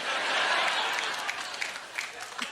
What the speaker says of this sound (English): There were women applauding that.